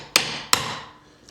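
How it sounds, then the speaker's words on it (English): A hammer taps a pry tool against wooden window trim twice, two sharp, close metallic knocks about 0.4 seconds apart, each ringing out briefly before quiet. "we are gonna grab our hammer"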